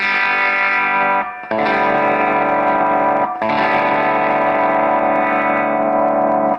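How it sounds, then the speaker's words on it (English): Electric guitar played through a test capacitor on the tone circuit, sustained distorted chords ringing loud and close, struck three times with brief dips between, a mid-heavy honky tone. "what I really like from what I'm hearing from this cap right here, is it's got a real sort of an onky mid-range tone quality"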